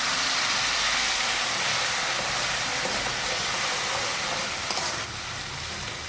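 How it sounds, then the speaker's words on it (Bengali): Water hits hot masala in a pan while cooking mattar paneer, making a loud, steady sizzling hiss that fills the clip and eases slightly toward the end, with no talking. "জল গুলে দিয়ে দিচ্ছি, নাহলে লেগে থাকবে মশলাটা।"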